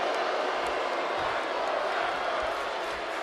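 Disappointed crowd reaction in the WWE 2K24 wrestling game, a Sacramento arena audience groaning after a failed high-risk move from the top of a steel cage; a dense, steady wash of crowd noise fills the whole stretch at moderate level.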